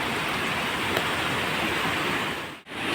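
Rainwater rushing steadily down a road, a continuous broad hiss of flowing water, loud and close, with a brief dip near the end.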